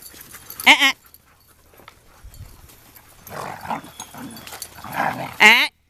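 A dog gives two sharp barks, one near the start and one at the end, with rustling and muffled movement between them.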